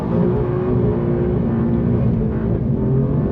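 An Alfa Romeo Quadrifoglio accelerates hard on a straight road during a 0 to 60 run, its engine a loud, continuous, throaty roar heard from inside with no break.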